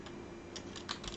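Quiet typing on a computer keyboard while entering a virtual machine name, a short run of soft, irregular key clicks close by with no voices.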